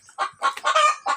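Heritage free-range chickens about 45 days old cluck in four quick, loud bursts close at hand, sharp and clear with no voices.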